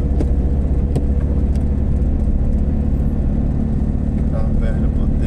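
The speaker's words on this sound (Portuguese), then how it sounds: "Carro perde a potência." Car engine droning steadily while straining and losing power on a winding mountain road between Cachoeiras de Macacu and Nova Friburgo, a loud constant low hum with road noise and no pause throughout.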